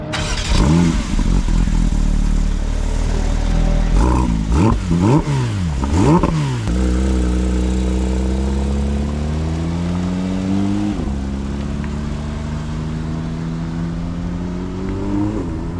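Porsche 992 GT3 RS engine on the Circuit du Castellet, revving loudly in several sharp rising and falling bursts, then pulling hard through long climbing gear runs with brief dips at each shift, close and continuous.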